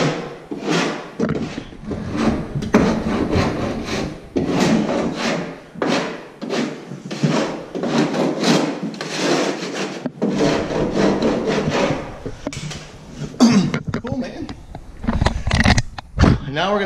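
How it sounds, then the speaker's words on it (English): A hand rasp scrapes over dried drywall compound bumps in repeated rubbing strokes, close and fairly loud, with a few brief knocks near the end. "all you have to do is lightly go over them with your rasp and they'll come right off"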